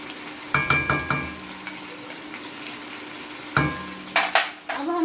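Garlic and ginger paste dropped onto chicken in a hot pan, giving a few sharp bursts of sizzling and frying with stirring between them, close and fairly loud, and no voices.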